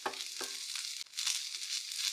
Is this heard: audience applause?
no